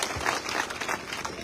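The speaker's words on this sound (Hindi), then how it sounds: "जोरदार तालियों से एक बार आप सबकी तरफ से स्वागत की" A crowd at a political rally in Rajgarh breaks into applause, a short burst of dense, loud clapping that stays busy and uneven from start to finish.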